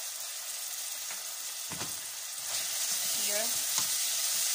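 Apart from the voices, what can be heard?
onion frying with salt in a pan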